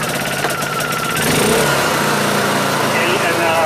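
A Honda EU2000i generator running on propane hums and buzzes close by, a steady mid-pitched engine drone under a person talking throughout.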